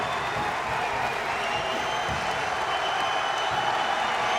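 A home crowd at a men's college basketball game inside Evans Fieldhouse keeps up a steady, distant roar of cheering and clapping, fairly faint and continuous.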